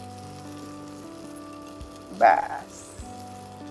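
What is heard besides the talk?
tomato sizzling as it is added to the pan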